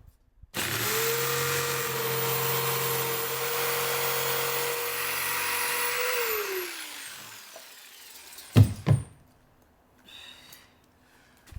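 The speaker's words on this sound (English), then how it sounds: "The old faithful jigsaw. Definitely going to wear my mask for this." A jigsaw cuts through the sheet metal of a van, a loud sustained buzzing drone for about six seconds that winds down, followed by a couple of sharp knocks and quieter handling.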